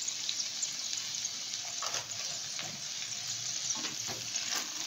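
Okra fried in a pan with dried mango powder and spices, sizzling steadily while being stirred, with scraping and clatter of the utensil rising over the constant hiss.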